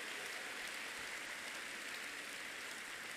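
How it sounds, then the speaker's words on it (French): A church congregation applauds in a steady, dense wash of clapping that holds at an even level throughout, with no voices standing out. "pardon, applaudissez pour Jésus."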